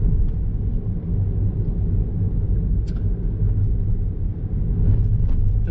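A car drives along the Macau Grand Prix street route before race day, heard from inside as a loud, steady low road rumble and engine drone with faint passing traffic, no talk.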